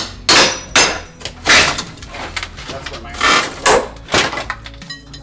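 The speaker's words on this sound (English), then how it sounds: "you're just hacking away with a hammer and a pry bar" A plaster wall is being demolished with a hammer and a pry bar, giving loud, irregular cracks, thuds and crumbling crashes with debris falling between the blows, while a person briefly speaks.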